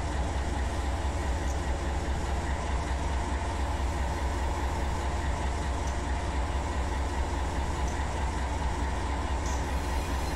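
A long, heavy 15,000-ton freight train in Run 8 Train Simulator rolls down the Tehachapi Loop with a steady, unbroken rumble and dense mechanical roar that holds at an even level throughout, with no voices.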